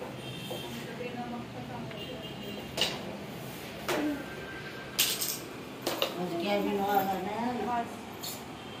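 Carrom being played on a rainy day, with sharp wooden clicks and clacks of striker and pieces scattered irregularly, a few louder hits standing out, while people chat over the game.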